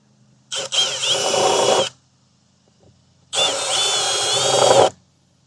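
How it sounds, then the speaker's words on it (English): A power drill with a 3/16 bit bores holes for a Dometic SeaStar trim tab actuator install on a boat: two close, loud whining bursts of about a second and a half each, separated by a pause. "I'm gonna drill my holes here, and that's where my actuator is gonna be."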